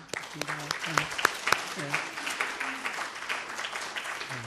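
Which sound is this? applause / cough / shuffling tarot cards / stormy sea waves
applause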